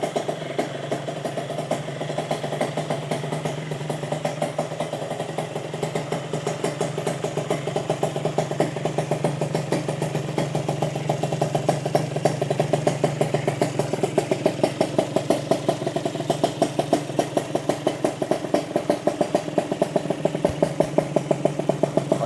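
A Honda Nova motorcycle built to a 59 spec with a racing exhaust idles steadily and close by, its engine chugging in an even, rapid pulse that swells slightly louder partway through, with no talking.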